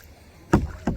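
Two close, crisp splashing strokes of a kayak paddle dip into the water about a third of a second apart over quiet ambience, during a kayaking outing in Canada.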